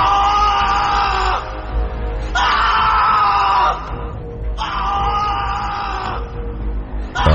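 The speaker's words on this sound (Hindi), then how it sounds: "रॉबर्ट ने एक बार फिर से पूरी जान लगाकर चीखने की कोशिश की तो इस बार वो चीखता गया" A man screams in a dramatized audio story, three long anguished yells in sequence separated by brief breaths, loud and close over a low background rumble.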